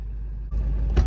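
A 2002 Ford F-350 pickup with a 7.3 Powerstroke diesel idles close by, a loud, steady low rumble that briefly dips and then swells slightly louder.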